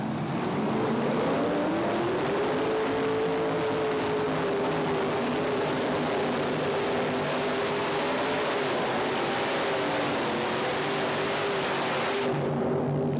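A supercharged drag racing engine roars under throttle, loud and sustained for about thirteen seconds. The pitch swells and wavers as the revs change, and the sound cuts off sharply near the end.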